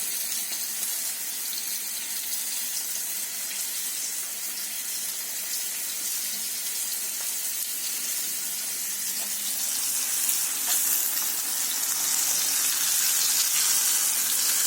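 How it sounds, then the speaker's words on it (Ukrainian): Steady, hissing sizzle of crucian carp frying in a hot uncovered pan, continuous and close, growing slightly louder and crackling toward the end. "Сковорідку не накриваємо, тому що ми ж хочемо жарену рибу, а не варену."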